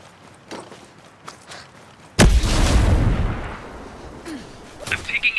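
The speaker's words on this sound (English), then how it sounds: "Grenade out." A grenade explodes with a loud, sudden boom partway through, followed by a decaying rumble and scattered gunfire and footsteps, during a PvP firefight in Ghost Recon Breakpoint.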